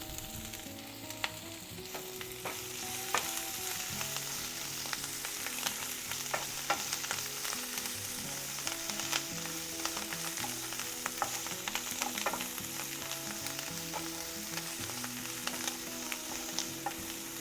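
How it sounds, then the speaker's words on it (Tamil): Bajji chillies and a handful of coriander leaves sauté in oil in a pan for chutney, giving a steady, close, crackling sizzle with scattered pops and occasional stirring scrapes throughout, no talking. "இந்த மாதிரி நல்லா வதக்கிக்கலாம்."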